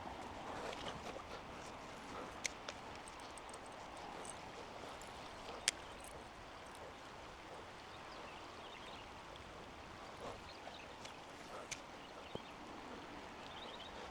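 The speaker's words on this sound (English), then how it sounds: "I don't know if you hear the rain touching the leaves on the tree" Faint, steady patter of rain on tree leaves beside water, a soft continuous hiss with occasional distinct drips tapping close by.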